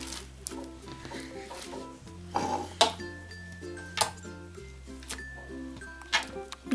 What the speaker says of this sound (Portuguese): Eu vou misturar os glitters.